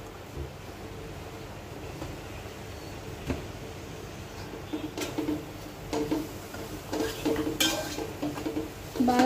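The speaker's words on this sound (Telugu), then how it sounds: "బాగా కలుపుకొని" Roasted cumin powder being stirred into paneer biryani in a pan: a soft, steady rustle of scraping with a few sharper spoon clinks against the pan, growing busier toward the end.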